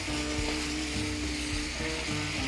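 Dried oysters frying in a pan over high heat as sauce is poured in, a steady dense sizzle with faint tonal hum beneath.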